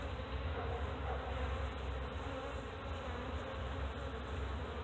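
A swarm of honeybees being caught fills the air with a dense, continuous buzzing drone, close and steady throughout without pause.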